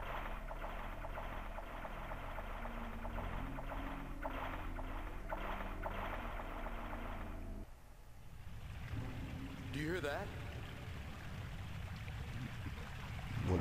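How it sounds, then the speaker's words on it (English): Rushing water like a flushing toilet in the PlayStation game OverBlood, a steady loud wash that shifts partway through into a churning swirl with a rising gurgle near the end. "Someone flush the toilet?"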